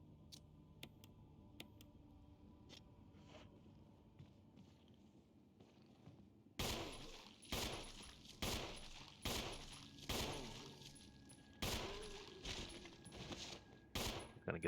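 Rapid bursts of video game gunfire, about a dozen loud, evenly spaced shots arriving in quick succession after a quieter stretch of small ticks and clicks.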